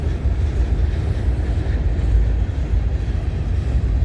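A CN westbound freight train rumbles past close by, a loud, continuous low roar and rattle of rail cars with no voices.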